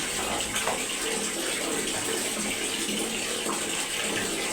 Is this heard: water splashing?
yes